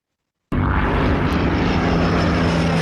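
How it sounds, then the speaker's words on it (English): A propeller airplane engine bursts in abruptly after a moment of silence, then holds a loud, steady droning roar with a constant low hum and no voices over it. "That sounds like a plane."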